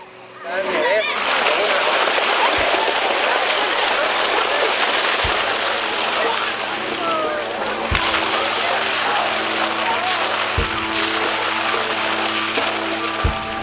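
Water gushes from a newly drilled well in a loud, continuous rushing splash that starts abruptly and holds steady, with a dull low thud recurring every few seconds underneath.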